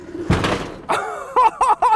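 A pretend vehicle thuds into the side of a 2019 Audi, a heavy knock followed by a short run of sharp, ringing impacts close by, with no one speaking over it.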